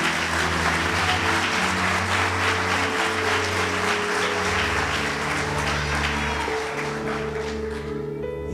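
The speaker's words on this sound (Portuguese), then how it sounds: "Pode aplaudir a Ele" A church congregation applauds steadily for the full stretch, the clapping blended with sustained music beneath it and easing off only near the end.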